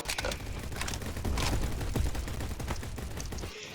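Rapid gunfire bursts in a first-person shooter video game, dense overlapping shots and automatic fire running nearly the whole time at steady loudness, ending in a brief lull and a final shot.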